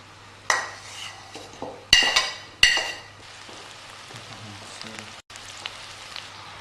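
Finely chopped garlic for a tikka masala curry added to a pot, with several sharp metallic clanks of a utensil against the pan followed by softer sizzling and stirring scrapes, close and without speech.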